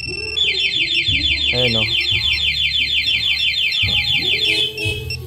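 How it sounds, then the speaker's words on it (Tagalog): A loud Yamaha Mio Gravis motorcycle's two-way anti-theft alarm warbles and chirps continuously in a rapid repeating pattern, with someone speaking briefly underneath. "Tapos kung tumutunog na lang tong alarm."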